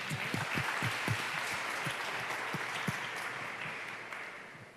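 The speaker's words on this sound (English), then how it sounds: "Yeah, you can clap for Colin Moore." An audience at a town hall meeting claps in a brief round of applause, a dense patter of many hands heard steadily for several seconds before gradually tapering off.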